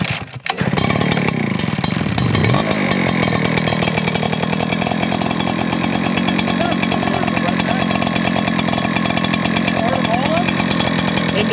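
A big gas-powered Echo or Redmax leaf blower engine fires up right away and then runs steadily, loud and close, as a continuous roar for the rest of the clip.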